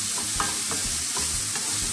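A ground beef mixture for cheeseburger pie sizzles in a pan, with steady frying crackle and a few soft scrapes of stirring, close and without talk.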